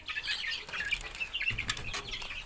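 Backyard farm chickens around a month old cluck and chirp in a steady, busy stream with bursts of wing flapping, fairly close and with no voices.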